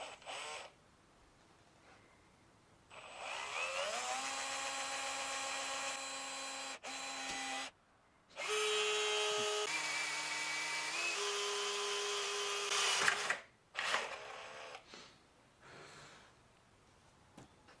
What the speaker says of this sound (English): And of course, drilling for truss rod access.